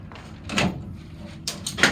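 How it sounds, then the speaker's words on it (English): The door of a 2007 Southwest Manufacturing enclosed trailer is opened with a few close rattling clunks and a metallic creak, short and fairly quiet, with no talking. "And this door does open."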